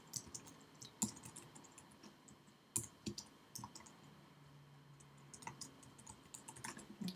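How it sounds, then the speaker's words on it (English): Quiet, close clicking of a computer keyboard while entering random names, with uneven bursts of keystrokes and occasional louder taps, no voice. "I'm just typing in some random names"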